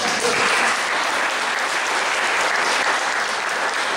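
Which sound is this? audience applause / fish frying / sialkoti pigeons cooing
audience applause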